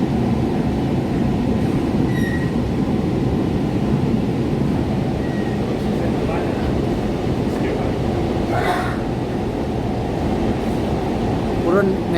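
A metro train rolls along on its way from Kavi Subhash toward Hemant Kumar, a loud steady rumble heard from inside the carriage with faint clicks and squeals over it.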